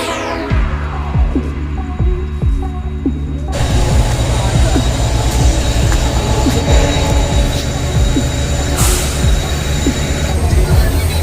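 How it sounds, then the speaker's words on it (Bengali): A train pulling into a station, heard up close as a loud low rumble with rhythmic wheel clacks, a rising hum and a burst of squeal, going on steadily throughout. "এই আমার ট্রেন এসে গেছে।"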